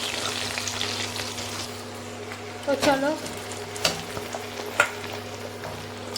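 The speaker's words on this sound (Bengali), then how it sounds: "তো আমি এখন পেঁয়াজ ভাজছি।" Onions fry in oil in a pan with a constant sizzle, broken by a few scraping stirs. A person speaks briefly over the cooking.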